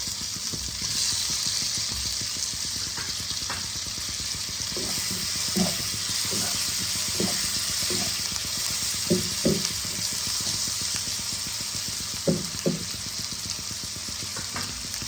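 Chopped tomatoes added to browned onions in a pan for a Bengali fish curry, a steady close sizzle with intermittent stirring knocks and scrapes, no voices.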